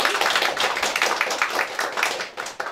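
Applause for a children's performance at a preschool induction ceremony, a dense burst of many hands clapping steadily at close range for a few seconds.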